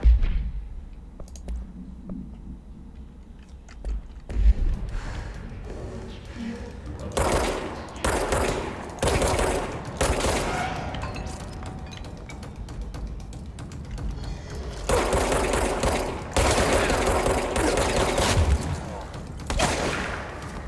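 Shotgun fire in the action video game Control, loud blasts in repeated bursts mixed with game effects and clicks across the stretch, with some talk over parts of it.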